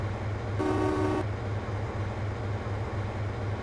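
A deep diesel engine of a BR Class 55 Deltic locomotive starts in a train simulator game, rumbling steadily with a rhythmic low throb, loud and close, with a brief horn-like tone early on.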